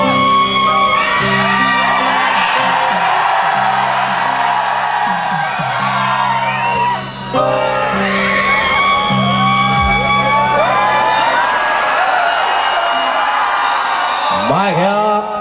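Live crowd at an outdoor Punjabi stage concert in Pharala whooping, shouting and cheering loudly throughout, with sustained yells and a brief dip midway before the noise swells again.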